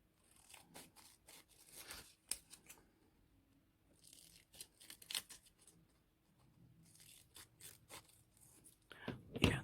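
Paper being cut out for a small scrappy junk journal booklet, quiet snipping and rustling in short irregular bursts, close and soft, with faint speech-like murmurs and handling noise between cuts.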